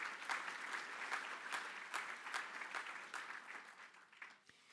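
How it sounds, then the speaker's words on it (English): Award recipients receive a steady round of clapping from an audience at a cultural diversity awards ceremony, sharp claps packed densely at moderate distance and gradually thinning toward the end. "Let's give them a big round of applause."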